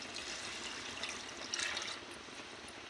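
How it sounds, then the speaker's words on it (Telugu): Water trickles and splashes steadily into a pot of chicken curry, close by, with a brief louder pour in the middle and no talking. "వాటర్ కూడా వేసేస్తాను ఫ్రెండ్స్"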